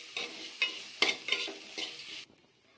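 Raw banana poriyal is stirred while frying in a pan, giving five or six quick scraping sizzles of a spoon through the curry, close and fairly quiet, then a stop.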